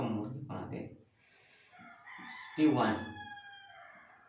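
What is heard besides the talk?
rooster crowing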